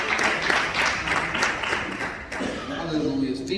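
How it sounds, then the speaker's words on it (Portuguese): A church congregation at a Portuguese-language prayer service claps in praise with dense, continuous clapping, while voices can be heard beneath it and the sound grows somewhat more uneven toward the end. "louvam o Senhor com palmas que glorificam e exaltam o nome do Senhor Jesus"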